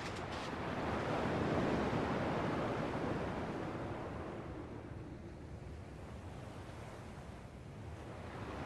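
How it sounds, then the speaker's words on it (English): Ocean waves lap and wash onto a shore in the Kingdom Hearts video game, a steady broad hiss that swells early and then settles into a continuous surf roar with no voices. "At least the waves sound the same."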